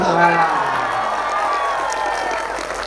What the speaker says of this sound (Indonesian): kasih tepuk tangan dong buat dia.